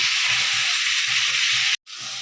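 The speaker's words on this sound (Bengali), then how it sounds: "তাই আমি সর্ষের তেলে মাছটাকে একটু ভেজে নিচ্ছি" Fish frying in mustard oil in a pan, a loud close sizzling hiss with a faint pulsing low rumble beneath, cutting out briefly near the end before resuming.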